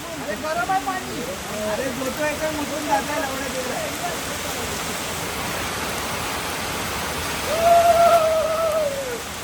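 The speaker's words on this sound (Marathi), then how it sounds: "फुल पाऊस आलाय" Heavy rain pours down at Radhai Resort in Karjat, a dense, steady roaring hiss that fills the whole stretch while people talk and call out over it.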